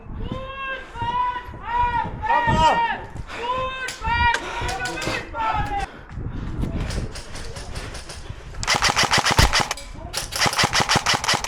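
Airsoft guns fire in rapid bursts during a fortress assault game, with sharp repeated clicks and snaps growing into dense, loud volleys near the end, while players shout over them.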